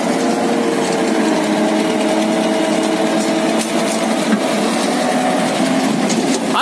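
A logging tractor's engine runs steadily in the taiga during timber skidding, a loud continuous drone with a whining, humming tone and occasional clanks, and no voices.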